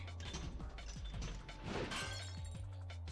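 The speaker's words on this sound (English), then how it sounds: "The glass is broken." Glass shatters in the video game Zero Escape: Virtue's Last Reward, a dense crash with scattered tinkling fragments that runs steadily over three seconds above a low droning game soundtrack.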